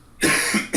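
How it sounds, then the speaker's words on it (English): One harsh, close cough from a man, loud and breathy, cut by a short second burst at the end. "my throat is still killing me a bit, so I'm coughing."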